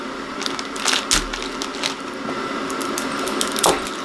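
A block of dry instant noodles from a big pack of Asian toko noodles is snapped apart by hand, giving several sharp dry cracks and crunches over a faint background hiss of water heating.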